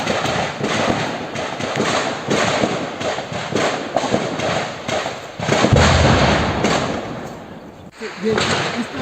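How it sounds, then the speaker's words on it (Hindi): Gunfire during an armed encounter in Srinagar, with a dense series of loud cracks and bangs at irregular intervals amid crowd and outdoor noise, and voices heard now and then. "उस वक्त की तस्वीरें हैं जब गोलियों की आवाजें सुनी जा रही थी"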